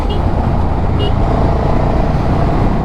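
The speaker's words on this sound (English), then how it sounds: "And this is where we join the main traffic." Main-road traffic on the Chandigarh to Shimla route, heard from a Ducati Multistrada V4S motorcycle as a dense, constant roar of passing vehicles and road noise, loud and unbroken throughout.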